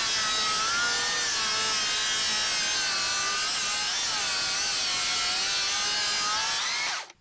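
A cordless circular saw rips a long cut through treated wood, a continuous high, loud whine holding steady for about seven seconds before the blade exits and the sound drops away.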